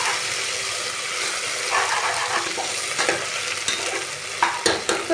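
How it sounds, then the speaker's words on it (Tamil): Fried onions with ginger garlic paste, cooking for a chicken tikka biryani, are stirred vigorously in a sizzling pan, a loud, close hiss with repeated scraping and clattering strokes that grow sharper toward the end. "அதை ஆட் பண்ணிவிட்டு நம்ம நல்லா மிக்ஸ் பண்ணி எடுத்துக்கலாம்."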